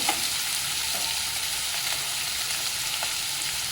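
A besan (gram flour) mixture roasting in a pan for okra, a soft continuous sizzle with faint stirring, steady and fairly quiet.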